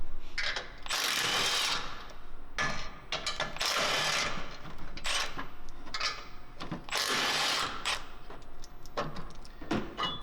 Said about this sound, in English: we're going to remove the aluminum crash bar standoffs using a 14mm socket.